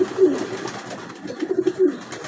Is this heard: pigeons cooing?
yes